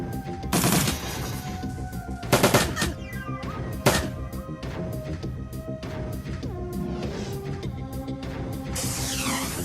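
Video-game gunfire in Shadowrun: Dragonfall, loud bursts of rapid automatic shots and single cracks in irregular volleys over a steady electronic background.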